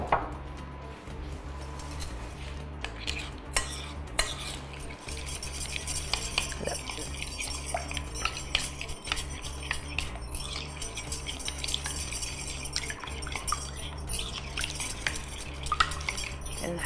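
Spoon stirring a thick tahini salad dressing in a bowl, with steady scraping and clinking strokes that carry on throughout, close and moderately loud, with no talking.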